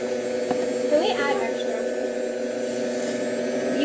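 A stand mixer runs on its lowest speed setting, 1, while baking, giving a steady, even motor hum with a few faint clinks over it.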